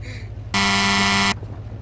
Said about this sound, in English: It's also got a horn.